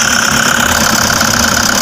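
Toyota HiAce van engine with manual transmission, in neutral and idling steadily at close range, a continuous rough mechanical hum with no talking over it.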